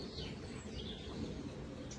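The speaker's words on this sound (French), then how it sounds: "c'est d'entendre les oiseaux, celui qui passe derrière" Birds chirp faintly outdoors in open nature, brief calls scattered over a steady broadband background of wind or ambient noise, with no talking.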